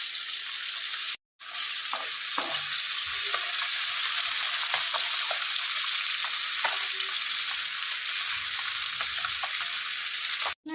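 Fish frying in hot mustard oil for a Bengali tel koi dish, a steady loud sizzle with faint scrapes, cut by a short silence near the start and another at the end.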